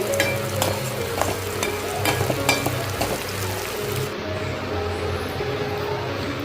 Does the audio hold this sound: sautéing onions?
yes